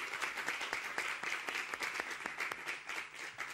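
Studio audience applause on a Spanish television game show, steady dense clapping from a crowd that carries on evenly throughout with no voices over it.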